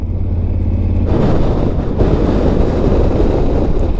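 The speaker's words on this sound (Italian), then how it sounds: "Vento pazzesco da quest'altra direzione." Loud, constant wind roars and buffets the microphone beside a flooded forest on the Carretera Austral, a dense rushing noise that swells slightly after the first second.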